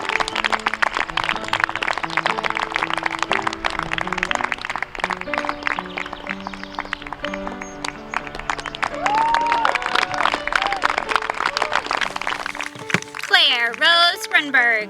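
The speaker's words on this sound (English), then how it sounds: "Hope you're really warming up your clapping hands there." Audience applause at a 2020 graduation ceremony, steady clapping sustained throughout under a speaker's voice reading out graduates' names, with music also playing in the background.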